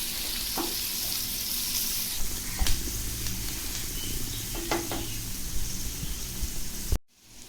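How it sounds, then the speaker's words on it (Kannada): Onions frying in a pan over high heat for restaurant-style egg fried rice, a steady close sizzle with occasional stirring clatters and scrapes, ending abruptly near the finish. "ಈಗ ಈರುಳ್ಳಿ ಫ್ರೈ ಆಗ್ತಾ ಇದೆ"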